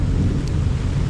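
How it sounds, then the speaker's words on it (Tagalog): Thunder rumbles low and continuous during a rainstorm outdoors, a broad, steady roll with a hiss of rain over it, with no talk. "Kulog na kulog po."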